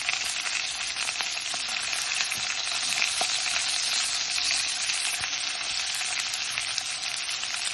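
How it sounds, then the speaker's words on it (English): Garlic frying in a pan of olive oil with a pat of butter, a steady, close, dense sizzle with faint crackles running unbroken throughout, no voices. "Add a pat of butter to my olive oil. And then I add my garlic."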